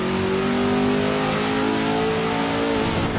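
A 1966 Ford GT40 race car engine revs hard and holds at high pitch, loud and continuous, with a buzzy synthetic tone typical of a racing video game, Assetto Corsa.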